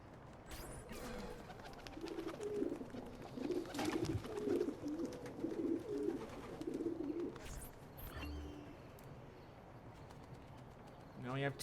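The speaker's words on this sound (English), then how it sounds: "Here's the pigeon coop." Pigeons at a pigeon coop in the Assassin's Creed 2 video game give soft, repeated rolling coos through the middle stretch, with a person talking over the game sounds and brief flutters around them.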